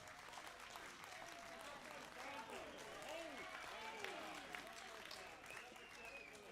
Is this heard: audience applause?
yes